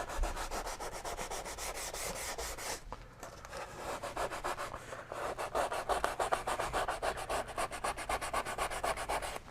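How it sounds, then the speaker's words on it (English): Hand sanding of a soft spruce steel-string guitar top, a steady rapid back-and-forth scratchy rubbing in quick even strokes, close and continuous with a brief pause near the start. "the spruce is really soft when it comes to sanding, and the marks will usually come right off"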